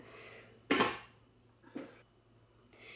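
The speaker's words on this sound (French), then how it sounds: "un couvercle de casserole." A metal saucepan lid clanks sharply once while a dishwasher is unloaded, followed by a softer clatter and a faint rattle in an otherwise quiet room.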